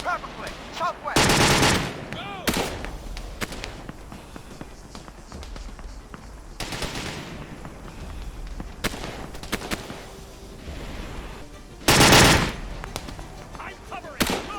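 Machine gun fire in an Arma 3 battle, with loud bursts of rapid automatic shots and scattered single shots and distant fire between them, mixed with footsteps and a voice talking.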